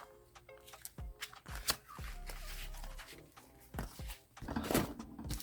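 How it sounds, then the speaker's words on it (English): A deck of cards is shuffled up close in several brisk riffles and rustles, with short pauses and handling noise between them. "have your cards, shuffle them up, put them in a little pile."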